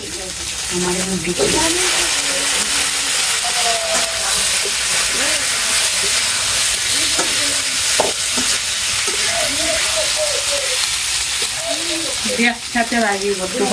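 Onions fry in a pan on a village kitchen stove, a continuous broad hiss and sizzle with occasional stirring scrapes, while people talk close by over the cooking.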